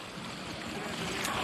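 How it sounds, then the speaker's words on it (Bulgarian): Skaklya waterfall pouring down the mountainside near Svoge, a continuous rushing wash of water heard at moderate level and slightly distant, with no speech over it. "Това е водопада скакля,"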